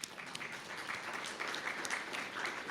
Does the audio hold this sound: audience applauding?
yes